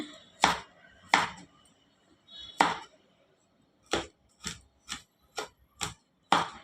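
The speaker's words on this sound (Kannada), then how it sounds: "ಕಾಯಿ ಕಟ್ ಮಾಡ್ಕೊಳೋಣ ಸಣ್ಣ ಸಣ್ಣದಾಗೆ" A knife chops coconut into small pieces sharply on a board, about ten distinct knocks, spaced unevenly at first and then in a quicker, steadier rhythm.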